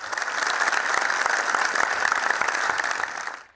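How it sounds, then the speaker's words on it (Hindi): Hearty applause from the audience at a Jain farewell ceremony, full and sustained clapping with a few sharper claps standing out, then fading quickly at the end. "तालियों से बधाइए, फिर मैं स्टार्ट करूंगी।"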